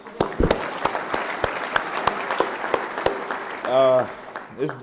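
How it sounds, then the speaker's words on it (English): Brief, scattered applause rises at a men's basketball banquet, with loud individual claps popping out, a voice breaking through near the end. "Please give yourself a round of applause, please."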